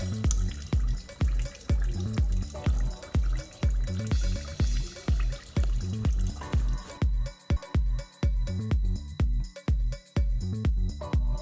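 Transmission fluid drains from the pan of a 2012 Toyota Wish in a close, rhythmic series of wet drips and splashes, steady and evenly spaced and growing sparser toward the end.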